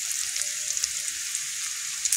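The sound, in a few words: spices frying in oil for lote fish curry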